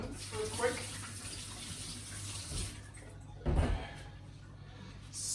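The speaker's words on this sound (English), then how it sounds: "let me just wash my hands real quick" Tap water runs steadily into a kitchen sink as hands are rinsed between steps of making sweet potato pie, a continuous mid-level wash with a louder splash partway through and a hum beneath.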